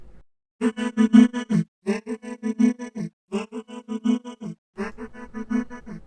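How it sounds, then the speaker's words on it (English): A sustained, harmonically rich instrument plays four phrases separated by short gaps, with a wide, lush Valhalla Supermassive echo tail smearing each phrase; no voices. "And then I have this Valhalla supermassive echo effect on it."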